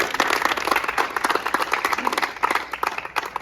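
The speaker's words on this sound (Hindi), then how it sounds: "इसके लिए एक बार जोरदार तालियां" Audience applause honouring a youth organisation's social media head at a college push-ups challenge award ceremony, a brisk crowd of clapping hands, fairly close and steady, with no voices.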